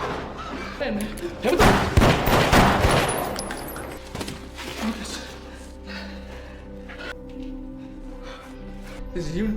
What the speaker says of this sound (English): In response, Gordon fires back and shoots Marcus